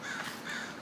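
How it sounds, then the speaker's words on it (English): A crow gives two quick raspy caws, fairly close and alone, without any voices. "This is the crow."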